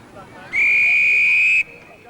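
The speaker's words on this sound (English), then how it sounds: "Whistle goes." A single loud, sustained whistle blast lasting about a second starts a race at a televised 1981 Superstars sports competition, sounding over low crowd murmur.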